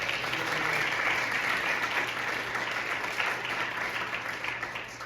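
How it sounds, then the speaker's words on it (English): An audience at a songwriters showcase applauds in a sustained, even wash of many hands clapping that stays full throughout and eases slightly at the end. "And so would you give them a round of applause?"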